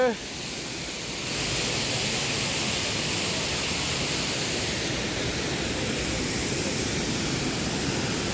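A Meghalaya waterfall roars as a steady, broadband rush of falling water, loud and unbroken from start to finish.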